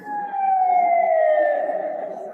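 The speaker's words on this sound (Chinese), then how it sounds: "那是救护车。" An ambulance siren gives one loud, close, sustained wailing tone that slides slowly downward for a couple of seconds, with no one talking.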